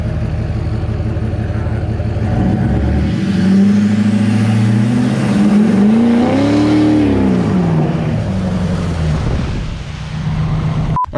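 A tuned Duramax diesel pickup truck accelerates down a Texas road, a loud, close, heavy diesel roar that rises and sweeps through the gears, with a brief lull near the end.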